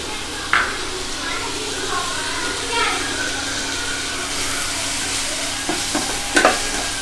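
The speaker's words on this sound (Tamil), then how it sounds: "இப்போ தக்காளி சேர்த்துக்கலாம்." Tomatoes stirred into ginger-garlic paste sizzling in a kadai while cooking kadai sabji, a steady frying hiss with a few sharp utensil scrapes and knocks near the end, no voices.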